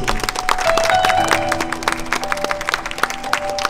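Wedding guests applauding at a ceremony, a loud burst of clapping that thins into scattered claps over a steady room murmur, with faint tones ringing behind.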